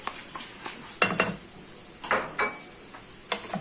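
Metal utensil scraping and clicking against a cooking pan as chopped garlic and liver are stirred together, with a run of irregular close taps and clinks.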